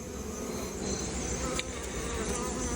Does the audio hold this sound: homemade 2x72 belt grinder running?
no